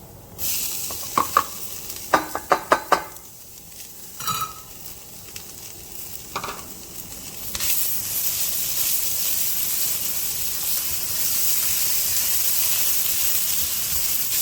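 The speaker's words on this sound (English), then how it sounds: "Let's go ahead and add in our onions." Chopped onions dropped into a pan of frying chicharrones: a few sharp clatters and scrapes of stirring, then a loud, steady sizzle of hot fat that swells and holds to the end.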